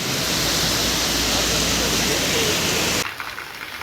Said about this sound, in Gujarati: અહીં તો જોરદાર વરસાદ પડે છે